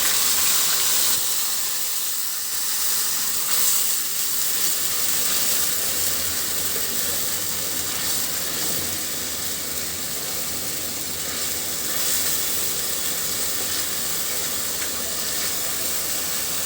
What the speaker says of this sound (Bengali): মশলাটা খুব ভালোভাবে কষিয়ে নিব।